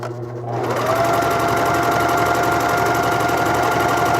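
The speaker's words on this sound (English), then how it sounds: "I'm going to stitch right here, making sure that none of the extra fabric is getting in the way" A cover stitch style sewing machine runs steadily while stitching fabric pleats, with a loud, continuous mechanical whir and rapid needle rhythm that starts just after a brief quieter moment and holds to the end.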